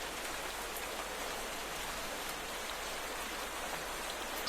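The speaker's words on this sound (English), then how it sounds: "And it's raining." Steady rain falls in modded Minecraft, a dense, even hiss of drops pattering on surfaces with no let-up and no talking.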